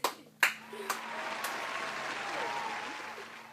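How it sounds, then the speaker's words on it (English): Audience applause for President Juan Manuel Santos opens with a few loud, separate claps, then swells into a steady crowd patter that fades slightly toward the end. "Everyone give him a round of applause."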